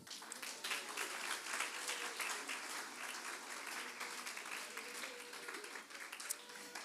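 A church congregation at a Bible study applauds, a faint, distant and steady wash of many hands clapping that lasts for several seconds.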